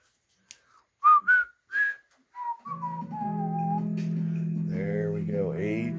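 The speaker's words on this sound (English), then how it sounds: "And then we got the whistles." A few short whistle chirps, then a long sustained whistled tone that warbles and slides, fairly close and steady.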